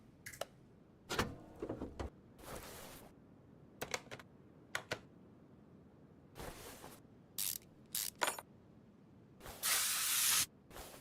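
A can of WD-40 hisses in a short burst onto a car part, preceded by scattered clicks and handling clatter in a quiet garage.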